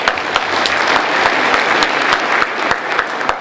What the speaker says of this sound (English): so round of applause for Hannah.